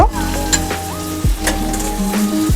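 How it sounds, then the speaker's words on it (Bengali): Sizzling as 700 grams of chicken meat goes into fried spice masala for chicken tehari, with a continuous hiss, a low hum and a few scraping stirs close by. "এবারে আমি মাংসগুলো দিয়ে দেব।"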